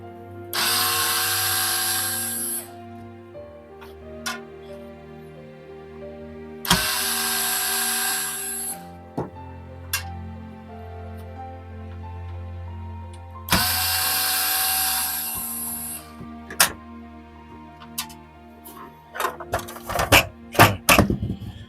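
A power screwdriver whirs in several sustained bursts as it backs screws out of an Xbox One console, with short pauses between runs and a flurry of clicks and small clatters of parts near the end.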